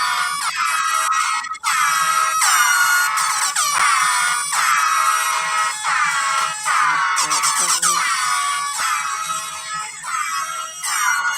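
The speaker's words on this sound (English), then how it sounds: "Y'all love Air Horn remix songs" Loud, blaring air horn blasts repeat in rapid bursts layered into a remix song, dense and continuous with brief gaps.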